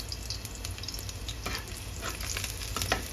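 Pork and cabbage being stir-fried at home, a steady close sizzle with repeated scraping and clacking of the spatula against the pan, no voices.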